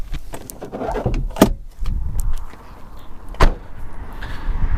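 Bonnet of a VW Corrado VR6 being opened: a few sharp clunks and latch clicks stand out over faint rustling and handling noise, with no talking.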